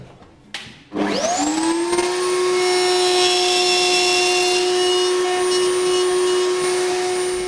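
A woodworking router cutting U-shaped dovetail passes in a clamped board on a jig: the motor spins up sharply after a brief knock, then holds a loud, steady high whine up close, with no talk.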